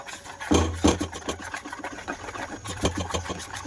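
A semolina batter for mango paratha with cardamom powder is stirred in a bowl, producing quick, uneven scraping and knocking strokes that repeat closely, fairly loud and near, with no talking.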